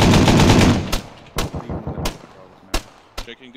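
Bursts of .50 cal machine gun fire in the Arma 3 combat game, a loud sustained rattle at first, then several sharp single shots spaced apart and fading into the distance.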